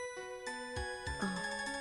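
A phone rings with a soft, tinkling melodic ringtone, a short run of bright chiming tones heard quietly and alone.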